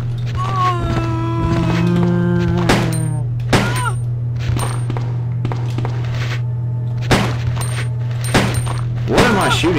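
Gunfire in the video game Resident Evil 2, several sharp separate shots punching through over a steady low hum, with a voice speaking between them.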